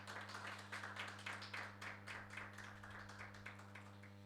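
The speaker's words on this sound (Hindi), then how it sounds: "तालियां बजाएं अपने खुदावन," A church congregation at a Sunday service claps in a steady rhythm for Jesus, a faint, even run of repeated claps over a constant low electrical hum.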